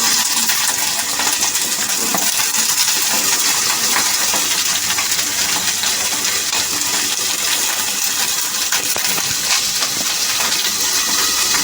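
Red and yellow bell peppers (capsicum) go into a hot pan for chicken drums of heaven, giving a loud, steady sizzle with faint scattered clinks and scraping, and no speech over it.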